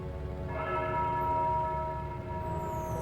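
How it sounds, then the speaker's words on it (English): A bell tolls in the Foolish Mortals video game, its rich ringing overtones swelling and then holding steadily over a low constant rumble, with no voices heard. "The tolling of a bell!"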